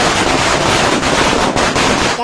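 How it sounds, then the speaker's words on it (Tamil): A string of firecrackers bursts outdoors in a dense, rapid crackling chain, loud and continuous for about two seconds, with a few sharper pops standing out before it cuts off. "அடுத்து நம்ம வெடி சர வெடி வைக்க போறோம்"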